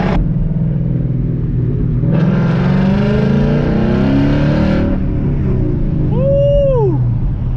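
A car engine rumbles steadily during a cruise with friends, then swells into a louder revving acceleration for a few seconds before settling back, ending with a brief high tonal squeal.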